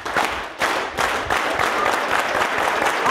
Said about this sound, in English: We're going to get a clap going.